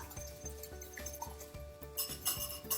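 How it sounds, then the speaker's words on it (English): Two eggs whisked in a bowl, with a quick, regular rhythm of soft tapping and rubbing strokes, close and quiet, growing slightly brighter and clinkier toward the end, with no talking. "So first I have 2 eggs in this bowl. We'll just whisk those up."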